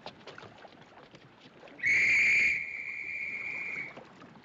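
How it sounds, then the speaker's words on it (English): Ship officer's whistle aboard the sinking liner in a 1958 film, one loud shrill blast of about two seconds, piercing over low background murmur and commotion. "That's an officer's whistle."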